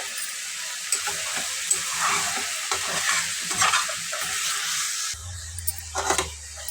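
Dried red chillies and curry leaves crackle and sizzle in hot oil for tomato rice, a dense close spitting hiss with occasional stirring clatter and no talk.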